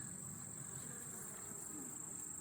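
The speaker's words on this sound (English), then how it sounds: "I've got a mad bee attacking my veil." A honey bee buzzes close against a beekeeper's veil at the hive, a faint continuous insect drone over a thin high whine and quiet background noise.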